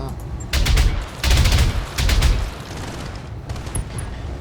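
A mech in BattleTech fires a heavy weapons barrage at a turret, with bursts of loud booming gunfire and explosions in several waves over a rumbling background.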